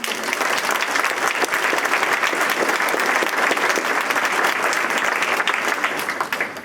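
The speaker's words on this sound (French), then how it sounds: "je crois qu'on peut l'applaudir ce soir" A hall audience at a mayor's New Year speech bursts into steady, dense applause for a young schoolboy, sustained loud clapping from many hands that fades slightly at the end.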